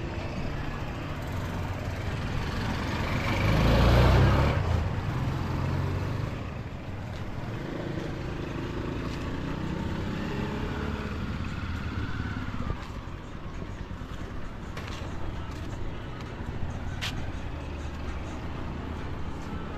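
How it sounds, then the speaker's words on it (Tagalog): A motorcycle engine rumbles, swelling louder early on and then holding a steady drone at moderate distance. "Natatanaw ko na ang motor"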